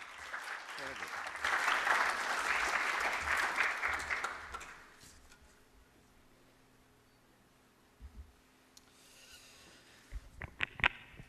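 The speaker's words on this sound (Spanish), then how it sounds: "Recibamos entonces al doctor Antonio Garrido Rubia con un fuerte aplauso." Applause from a political science congress audience welcoming a speaker to the podium, a dense burst of clapping for about five seconds that fades out, followed by quiet room noise and a few scattered sounds.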